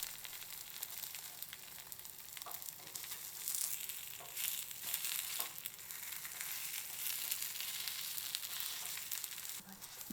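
Takoyaki balls frying in butter in a takoyaki pan while being turned, a soft continuous sizzle broken by light clicks and scrapes of the turning pick, faint and close.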